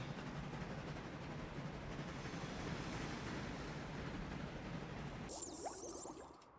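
Train rolling along tracks in the Transport Fever 2 game, a steady dense rumble with faint rhythmic clatter that continues throughout, followed near the end by a brief brighter high-pitched mechanical squeal or whine.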